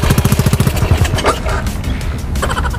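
A motorcycle engine cranks and catches, a rapid chugging pulse of firing strokes at the start that settles into a rough, uneven idle close by.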